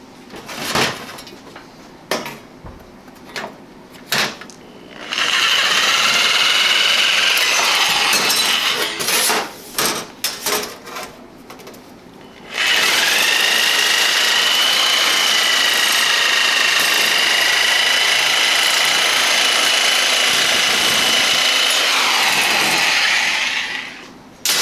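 A Harbor Freight powered sheet metal shear cuts through sheet metal in two long, loud continuous whining runs, separated by stretches of clicks and clunks as the tool is handled.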